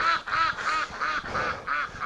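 Breeding ducks quack loudly and close in a rapid series of about six harsh, evenly spaced calls, with no voices over them.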